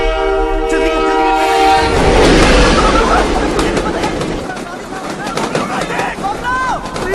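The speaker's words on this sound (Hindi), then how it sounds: "जल्दी कर यार, ट्रेन चल रही है यार" A train pulls along with a loud horn blast at the start, then a heavy rumbling roar of railcars rolling past, close and continuous, with shouted voices over it.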